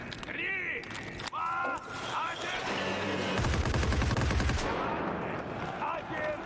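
PKP machine gun suppressing fire in a competitive video game match, a sustained stream of rapid automatic shots mixed with other game sounds, under excited commentary from a caster.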